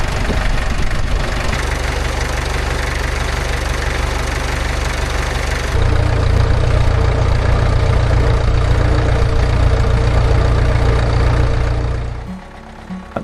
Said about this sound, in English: I hope you'll agree that the exhaust note's just a little bit sweeter than it was before.